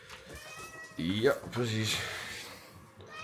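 Hungry house cats meow at feeding time, a couple of clear drawn-out meows close by, with a person talking briefly around them.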